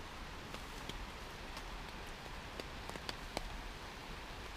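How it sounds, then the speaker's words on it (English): Steady patter of rain on a taut tent surface at Stanley Hot Springs, with scattered louder drops tapping close by, no voices. "spending some time in here out of the rain. And if you can hear it pitter-pattering"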